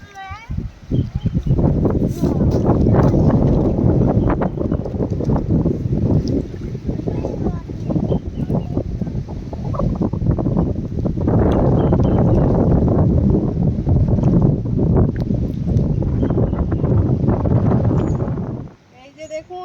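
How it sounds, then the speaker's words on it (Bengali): Strong wind blows over a river with waves, a loud, continuous roaring buffet that holds steady for most of the stretch before suddenly dropping away near the end. "আর যেই হাওয়া হচ্ছে আর নদীর জল, বাবা ঢেউ হচ্ছে এই দিকটায়"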